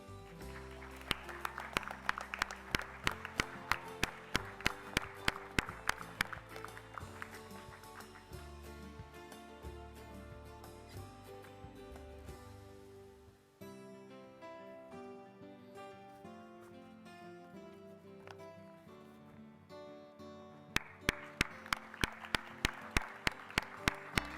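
Applause at a secondary-school graduation ceremony: scattered claps rise and fall over music-like tones, fade in the middle, then return as a brisk burst near the end.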